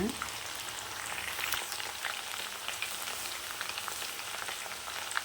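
Chilli chicken pieces deep-frying in hot oil, a steady dense crackling sizzle with scattered sharper pops, fairly close and even in level throughout, no talking over it.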